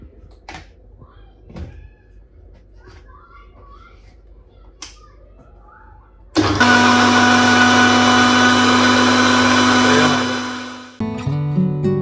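A kitchen mixer grinder blends mint leaves, black salt, lime juice and water, starting with a loud steady motor whir after quiet clinking and handling sounds. The whir runs for several seconds, dies down, then gives a short restart.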